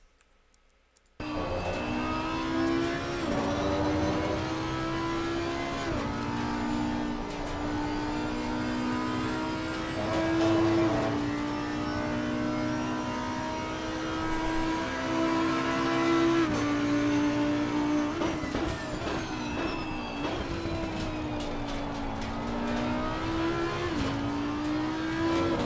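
An Audi R8 EVO GT3 race car in Assetto Corsa Competizione at Zandvoort sets off after a short silence and revs hard through repeated gear changes, its engine note climbing and dropping steadily as it laps, loud and alone.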